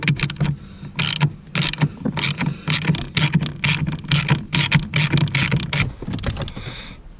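Bolts on a Ford Fiesta ST pedal are undone with a ratchet, giving close, loud bursts of rapid clicking in an uneven rhythm that repeats through the whole clip, with no talking.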